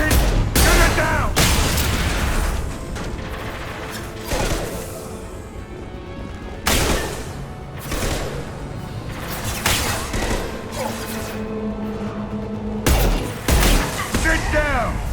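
Gunfire in the Mass Effect 2 video game as a loose fuel tank is shot down, loud repeated bursts of shots and booming impacts separated by short lulls, with voices talking between them.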